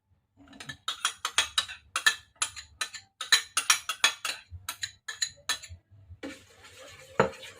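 A utensil clicks and scrapes rhythmically against a bowl while macaroni chicken salad is mixed, a quick, close series of sharp taps and swishes ending in a louder clatter.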